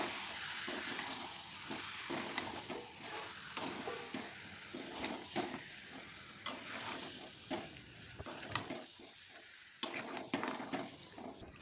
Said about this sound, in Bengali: চিনিটা দেওয়ার পরে একটু নাড়িয়ে নিচ্ছি